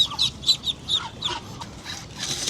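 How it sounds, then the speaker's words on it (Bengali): Ducklings and their mother ducks let loose on a rooftop, giving a series of high, chirping peeps in uneven bursts close by, with no talking. "এই যে সবগুলো হাঁস আমরা বের করে দিছি, এই যে এখানে বাচ্চাগুলো আর মাগুলা হচ্ছে দুইটা দুই পাশে।"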